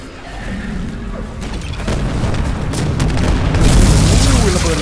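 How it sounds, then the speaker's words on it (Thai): Explosions go off in the Dead Space video game, a run of heavy booms and crashes building in loudness, with voices talking over the blasts. "ระเบิดระเบ้อ"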